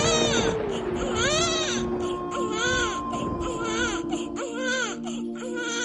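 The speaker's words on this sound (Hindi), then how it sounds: "तभी उन्हें बच्चे के रोने की आवाज सुनाई देती है।" An infant cries and wails in repeated rising-and-falling bursts, loud and close, as a horror story sound effect over a low steady hum.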